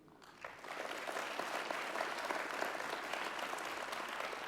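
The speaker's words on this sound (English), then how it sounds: "you can clap" A conference hall crowd at a party conference claps for a speech, the applause swelling in quickly and then holding as a thick, steady wash of many hands.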